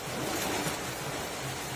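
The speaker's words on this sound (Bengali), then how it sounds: "বেশ তেড়ে বৃষ্টি নেমেছে," Heavy rain pours steadily during a rainy day, a dense, continuous hiss of falling water with no talk, staying loud and even throughout the short stretch.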